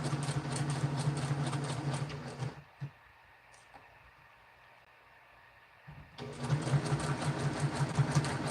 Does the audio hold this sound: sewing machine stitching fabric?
yes